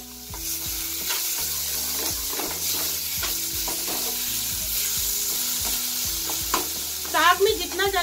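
Masala for sarson da saag fries and sizzles in a pan, a steady close crackle with repeated scraping stirs, and a brief louder burst of hiss near the end.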